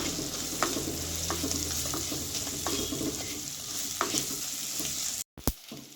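Garlic, curry leaves, fennel and green chili fry in oil for a spicy breadfruit gravy, a close, steady sizzle with soft stirring taps. It cuts out briefly near the end, and no one talks.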